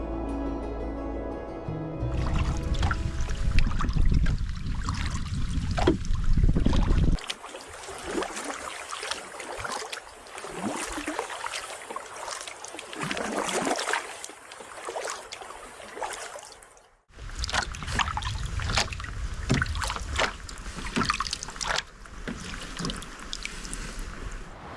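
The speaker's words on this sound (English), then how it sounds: "After a peaceful meander in the canoe" Canoe on a creek in Oklahoma's mountains, heard as close, uneven water swishes and splashes from paddling, with gusty wind buffeting the microphone and a brief quiet gap partway through.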